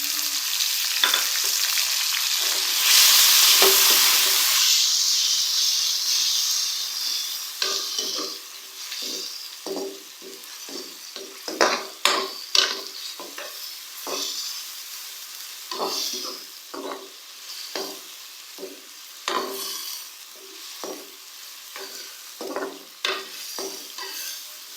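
Tomatoes hit hot oil in a fish fry masala, giving a loud sizzle that eases into steady frying, broken by repeated clinks and scrapes as a spoon stirs the pan.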